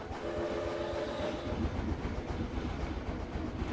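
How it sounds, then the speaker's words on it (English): A virtual train ride in the Planet Coaster video game on Switch rumbles along with continuous loud rolling noise and a faint tonal hum early on, no speech over it. "Now let's get on the train right up front."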